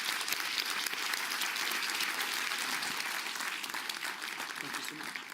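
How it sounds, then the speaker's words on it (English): An audience gives a strong round of applause for General Cavalli, dense and sustained with individual claps standing out, holding steady for several seconds with voices mixed in. "let's give a big round of applause to General Cavalli"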